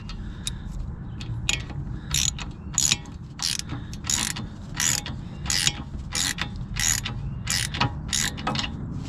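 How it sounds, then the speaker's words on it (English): A small Craftsman hand ratchet spins freely while working on the front struts of a 1998 Toyota Camry, giving a quick, close series of sharp clicking bursts in an uneven rhythm with no voices. "we're gonna use this little Craftsman ratchet, which hasn't gotten any love so far today"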